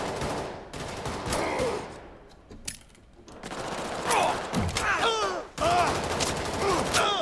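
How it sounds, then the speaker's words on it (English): Rapid bursts of automatic gunfire in the video game Payday 3 crackle in dense volleys, pausing briefly before resuming, with a busy, slightly distant battle feel. "I hear a lot of gunfire."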